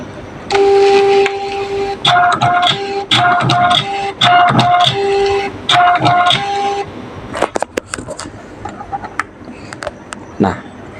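A Marker Putty 1010 marking printer runs in several rhythmic bursts of whirring, clicking mechanical printing, each ending in a brief pause, followed by scattered sharp clicks and taps.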